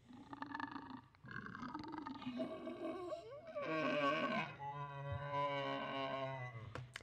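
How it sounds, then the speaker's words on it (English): Pitched-down, distorted horror game creature vocalisation with heavy reverb, a growling biomechanical roar in several drawn-out, groaning phrases, loud and alone with slight digital artifacts. "a little bit of distortion to try and channel that sort of biomechanical sound"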